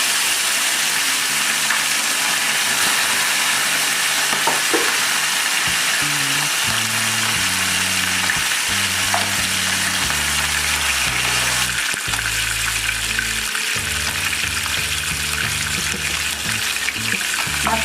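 Fish pieces marinated with salt and turmeric frying in hot oil, a loud steady sizzle running throughout, with occasional handling clatter and background tones.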